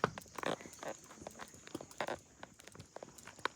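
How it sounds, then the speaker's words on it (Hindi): Horse hooves clip-clop in an irregular walking rhythm as the horse is ridden along a mountain trail in Pakistan's Kaghan Valley near Siri Paye, close and fairly quiet, with faint talk in the background. "हमारा घोड़ा जो है ना वो घूम रहा है"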